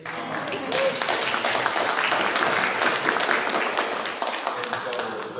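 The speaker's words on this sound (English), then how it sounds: "we can clap it up" An audience at a Dallas community discussion claps together, a dense, even burst of applause held for several seconds with voices murmuring through it.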